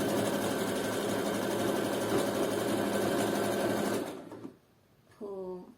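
A sewing machine stitches folded fabric trim onto a thong, its steady rapid mechanical whir running for about four seconds before stopping abruptly, followed by a short moment of talk.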